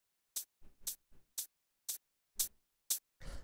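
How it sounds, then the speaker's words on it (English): A dub techno hi-hat sample with a fade-in and no saturation, repeating as short crisp ticks roughly every half second with faint lower thumps between, quiet and isolated. "With this one, I took this hi-hat sample"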